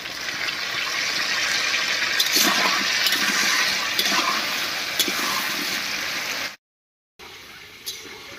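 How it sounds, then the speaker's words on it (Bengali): Potatoes frying in hot oil, a steady hissing sizzle close by with occasional clinks of a utensil, cutting out abruptly before resuming faintly. "তেল গরম হয়ে গেছে, এবার আলুটা ভেজে নেব।"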